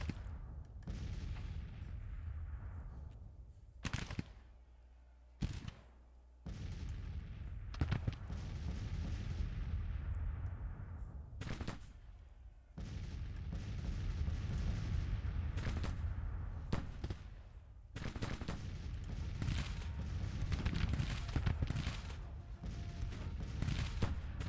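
Cannon and rifle fire in a Grand Tactician Civil War battle at Mobile, with dense, continuous crackling volleys broken by sharp booming bursts and brief lulls.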